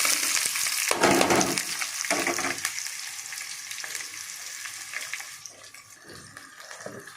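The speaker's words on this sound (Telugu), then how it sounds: "ఇప్పుడు ఉల్లిపాయలు పచ్చిమిర్చి వేసేస్తున్నాను చూడండి" Chopped onions and green chillies hitting hot oil in a pan: a loud, close hiss and crackle that swells at first, with stirring scrapes, then settles into a steady sizzle.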